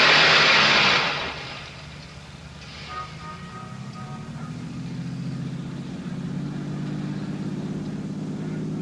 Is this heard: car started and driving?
yes